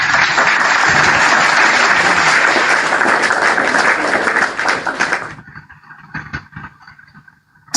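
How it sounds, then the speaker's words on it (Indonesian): Loud, dense applause from a church audience fills the first five seconds, then thins into scattered claps and quiet room noise. "Tepuk tangan yang di bawah."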